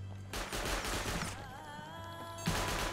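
An automatic turret in the game Rust fires rapid bursts of gunfire, loud dense crackling that pauses briefly and then resumes.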